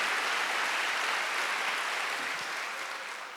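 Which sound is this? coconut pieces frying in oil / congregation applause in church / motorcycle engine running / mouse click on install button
congregation applause in church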